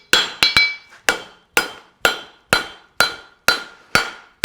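A hammer strikes hot steel on an anvil while a specialty horseshoe is forged, giving nine sharp, ringing blows: a quick double tap, then a steady beat of roughly two strikes per second, each one ringing out briefly, loud and close.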